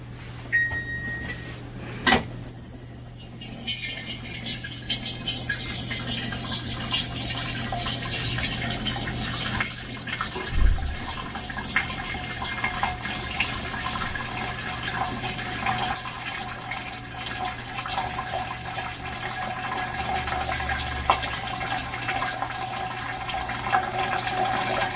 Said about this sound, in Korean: 자, 먼저 물을 받아볼까요?